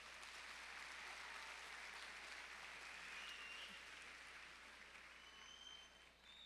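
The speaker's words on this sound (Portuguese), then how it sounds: "Palmas, irmãos." A congregation claps their hands in a church during worship, a dense, steady wash of applause that fills the room and holds throughout, easing off slightly toward the end.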